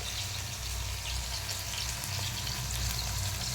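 Ginger garlic paste frying in a pan gives a continuous, even hiss of sizzling oil with a low hum beneath, without voices.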